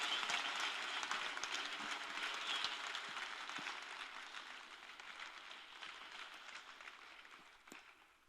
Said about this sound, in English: could I get another round of applause for Jenny Doe?